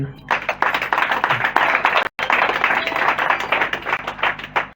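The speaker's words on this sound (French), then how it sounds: "je voudrais vous demander de l'applaudir" Audience applause at a ceremony handing over a new three-classroom school building, sustained clapping from a crowd lasting several seconds with a brief gap midway and a faint voice or two underneath.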